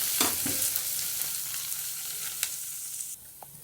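Egg fries in a pan for egg fried rice, giving a steady close sizzle with a few scraping stirs and clinks, with no talking.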